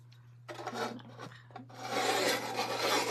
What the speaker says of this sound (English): I have to kind of screw it in because the hole wasn't like bigger